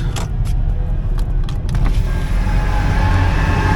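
A car drives along a road, with a steady close engine rumble and road noise inside the cabin and a few light clicks early on.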